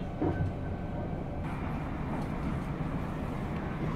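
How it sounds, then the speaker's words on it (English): Onboard a South Western Railway Class 458 train heading to London Waterloo, a steady low rumble of the carriage rolling along the track, faint and continuous. "This train is now approaching Early"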